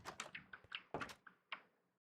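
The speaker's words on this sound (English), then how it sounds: "I have a door." An automated door opens in Minecraft, heard as a faint run of blocky clicks and thunks in uneven rhythm, a few heavier knocks among them, before fading out.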